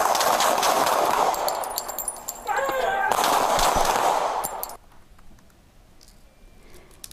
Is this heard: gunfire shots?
yes